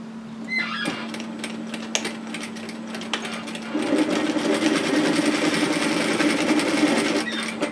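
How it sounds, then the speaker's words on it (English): A sewing machine runs steadily, stitching a straight line through a fabric panel of a four-cup reusable takeaway coffee holder bag, its motor hum close and continuous and growing a little louder partway through. "And then we're going to stitch that down in a nice straight line."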